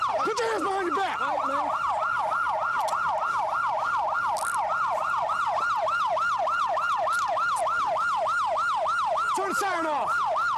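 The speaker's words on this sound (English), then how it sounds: "Turn the siren off." A police car siren wails close by in a fast, steady up-and-down yelp during an arrest in Indianapolis, Indiana, loud and continuous throughout.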